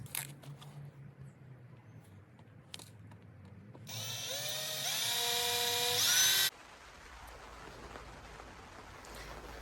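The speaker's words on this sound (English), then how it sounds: "So I'm going to drill that, and then this will all slide apart." A power drill bores out a weld on a Triumph Thruxton exhaust baffle, a loud steady whine with rising pitch lasting about three seconds, preceded and followed by quiet workshop handling noises.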